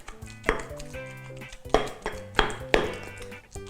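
Fish meat being pounded in a mortar with a pestle, several heavy rhythmic thuds with clinking overtones, close and loud, with no talking.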